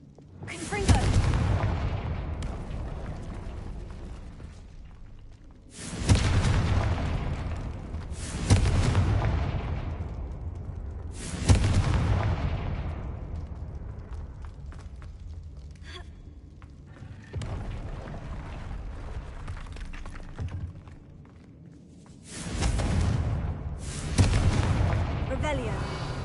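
Confringo fire spell blasts in a Hogwarts wizarding video game, five heavy booming explosions spaced a few seconds apart, each loud burst trailing off into a rumbling decay.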